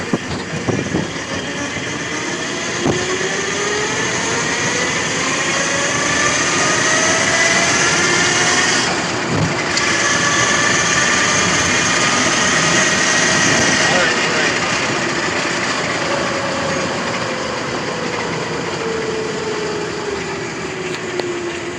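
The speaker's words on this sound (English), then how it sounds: "That's me downshifting into third. So it really can take off from third." A Subaru engine revs as the car pulls away in third gear, a loud sustained drone with its pitch sweeping slowly upward over about twenty seconds, heard from inside the car.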